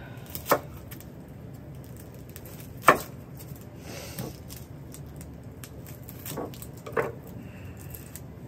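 A knife cuts peeled potatoes into pieces outdoors while cooking deer stew, giving a few sparse, sharp chops spaced seconds apart over a quiet windy background, close by and without talk.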